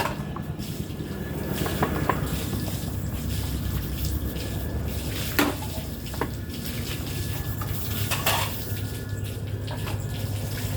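Dishes being washed in a kitchen, with bowls and plates clattering in short knocks over a steady wash of running water from a tap, close and continuous.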